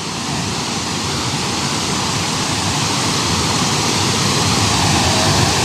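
The waterfall at Lake Sebu roars nearby as a loud, steady, unbroken rush of falling water that fills the whole scene without pause.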